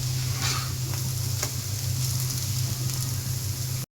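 Sliced bitter gourd sizzles steadily in a hot pan, a constant close frying hiss with occasional soft pops and stirring scrapes, no talking.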